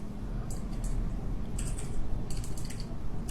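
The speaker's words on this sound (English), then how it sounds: "I'm typing randomly right now" Random typing on a computer keyboard, with clusters of quick clicking keystrokes in bursts over a steady low background hum, fairly close and moderately loud.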